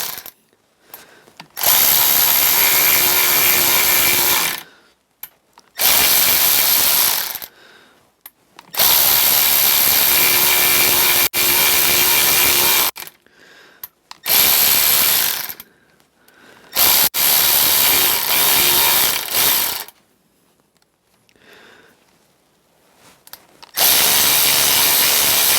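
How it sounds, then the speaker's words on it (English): Power drill driving a screw down under steady pressure, in bursts of several seconds each with quiet pauses between, loud and close with no talking. "we wind it down with a bit of weight on the top so we don't cam out on the screw head"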